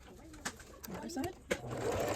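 A sewing machine stitches a zigzag on a zipper pouch in short, faint whirring bursts. A voice can be heard in the background alongside the stitching.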